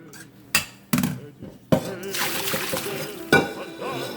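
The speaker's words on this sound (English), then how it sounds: "So now I'm going to go ahead and strain it again in the colander." Cooked angel hair pasta is strained in a colander, with several sharp clanks of metal and bursts of splashing, sloshing water, close by and irregular, with a voice talking between them.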